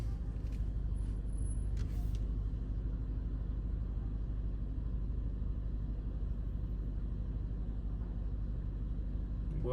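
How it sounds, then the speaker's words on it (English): Cars crawl through a crowded bazaar street in a low, steady traffic rumble with engine drone and a few faint higher sounds, heard from inside a vehicle. "There are just cars every which way."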